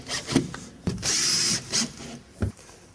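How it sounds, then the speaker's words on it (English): A power drill drives screws into a shower pan glued to the floor. Short whirring bursts come close together, with one longer sustained run in the middle and clunks from the work between them. "Try not to over tighten the screws, just snug them into the glue that we have beneath."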